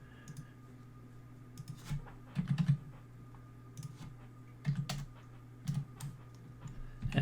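Keys on a computer keyboard are tapped in short bursts of clicks with pauses between, quiet and close, while character stats are entered by hand.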